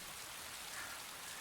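Steady rain falls in an outdoor scene from a television episode, a soft even hiss of drops with no breaks, fairly faint and without voices.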